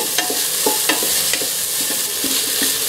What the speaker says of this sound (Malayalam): കുറച്ച് കറിവേപ്പിലയും ചേർത്ത് കൊടുക്കുന്നു. എന്നിട്ട് ഒന്നും കൂടി ഒന്ന് വാറ്റാം.